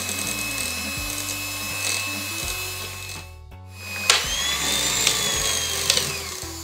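An electric hand mixer whisking slime, its motor whining steadily with stepped pitch changes, cutting out briefly midway before restarting with a sharper, higher hum and occasional clatters of the beaters, close and fairly loud.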